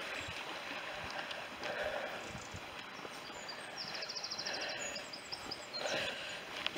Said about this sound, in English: There's the stream, the babbling brook.